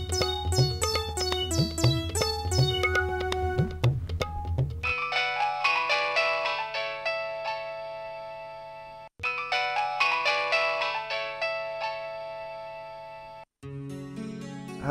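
A phone ringtone from a Punjabi film scene plays loudly and alone as a melodic electronic tune that repeats, broken by a couple of brief gaps.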